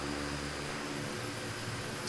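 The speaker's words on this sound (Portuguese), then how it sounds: "nós vamos estar usando Pilatus aí, o PC6" Pilatus PC-6 turboprop engine in Microsoft Flight Simulator 2020, a steady droning hum with a high whine held throughout, heard from inside the cockpit at an even level and with no talk.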